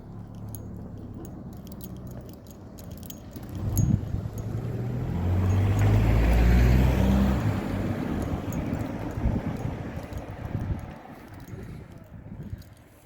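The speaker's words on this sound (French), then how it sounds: "Attention, il y a une voiture." A car passes along a village road, its rumble swelling to a close, loud peak and then fading away, with scattered crunching and rustling nearby.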